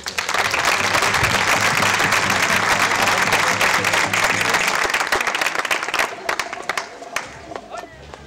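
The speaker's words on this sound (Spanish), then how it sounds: "Un aplauso." An audience applauds dancers at a San Cristóbal festival and tamborilero contest in Guadramiro, Spain: dense, sustained clapping from a crowd nearby that thins out and tapers into scattered claps over the last few seconds.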